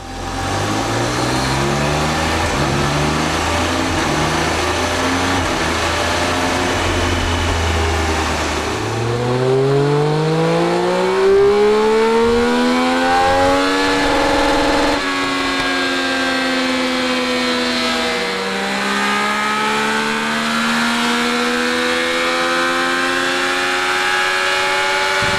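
A Triumph Speed Triple 1200 RS Euro 5 motorcycle engine runs on a dyno, loud and close throughout, idling low and then revving up in long rising sweeps, with two distinct climbs of the engine note and no talk.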